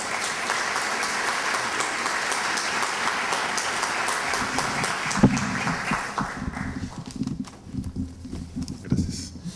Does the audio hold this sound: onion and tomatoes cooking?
no